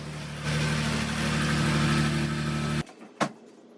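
A Dodge Ram truck engine runs at a steady idle, then cuts off abruptly, leaving near silence broken by a single sharp knock. It sounds as if it is pulled into a workshop.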